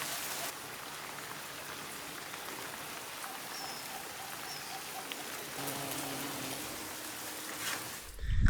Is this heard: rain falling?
yes